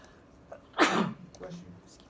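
One sharp, loud sneeze bursts out close by, followed by a softer breathy exhale.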